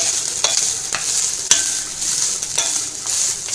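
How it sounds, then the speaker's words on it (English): Grated coconut roasting in a pan for coconut kalakand gives a steady dry sizzle broken by several sharp scrapes of stirring, close and fairly loud, with no talking. "Now just roast the coconut."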